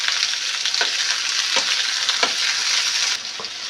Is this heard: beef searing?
yes